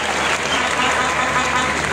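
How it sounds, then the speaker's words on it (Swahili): A crowd at a memorial gathering applauds in a thick, continuous wash of clapping, loud and close throughout the short stretch. "tujipe makofi ya kilo"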